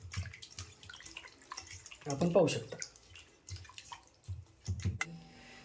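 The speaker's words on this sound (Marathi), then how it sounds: "ते याला स्वच्छपणे आपल्याला स्वच्छ पाण्याने सुरुवातीला धुवून घ्यायचं आहे." Raw chicken being rinsed in clean water, with irregular splashes, drips and sloshing bursts close by as a person speaks briefly over them.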